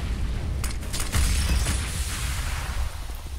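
Grenades going off in CS:GO during a professional match, a heavy booming blast with rumbling low end and crackling debris, loud and sustained for a few seconds.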